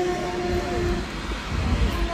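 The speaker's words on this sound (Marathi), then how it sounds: "झुकझुक गाडी चाललेली आहे" A small resort train chugs along with a steady low rumble and a faint sustained whine, continuous and moderately close, with no voices.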